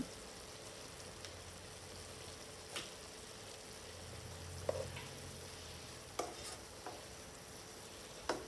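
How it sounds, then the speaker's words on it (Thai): Vegetarian protein is stir-fried in a hot pan, with a steady close sizzle and occasional sharp scrapes and taps from stirring, and no voices. "ผัดให้โปรตีนสุกจนทั่ว"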